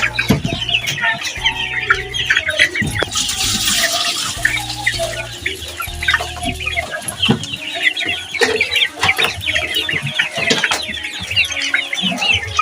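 Chickens kept in a backyard flock cluck and chatter continuously at close range, dense overlapping calls with occasional louder squawks, while water runs into a drinking tank in the background.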